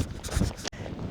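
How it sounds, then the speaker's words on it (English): Wind gusts buffet the microphone on open, plain terrain near the Icelandic coast, a loud rushing roar that cuts out abruptly for a moment before resuming. "It is windy"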